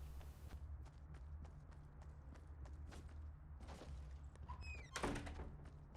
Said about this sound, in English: Shutting these doors to make this look unlooted.